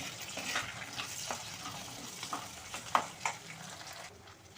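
Conch leaves and pepper sauté in a pan with a soft, steady sizzle and frying crackle, stirred now and then with a few small clinks. The sound is fairly quiet and continuous.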